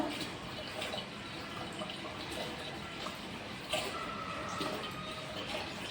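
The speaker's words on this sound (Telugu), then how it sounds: "ఇక్కడ మంచినీళ్ళు కూడా పట్టుకుంటాను" Water runs steadily from a tap, a continuous hissing splash with slight shifts as a container fills, heard close with no talking.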